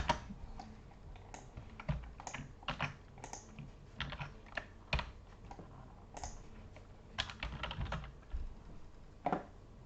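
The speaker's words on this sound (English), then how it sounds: "I'm tired of typing that out" Someone types on a computer keyboard at close range, in quick irregular bursts of key clicks with short pauses between. The room is otherwise quiet and no one speaks.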